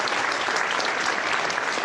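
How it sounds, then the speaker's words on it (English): Children clapping in the background, a steady, dense patter of applause running continuously and evenly throughout without pauses. "My children in the background's clapping"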